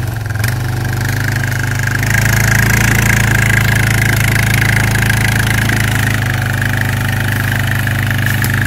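A quad bike engine runs at a steady idle on rural land in France, a loud continuous low rumble that holds throughout with no talking.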